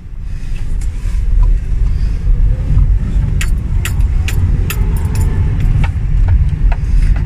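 A car moves through city traffic, its low road rumble and engine drone steady and close, with small rattles and clicks from inside the cabin scattered over the top.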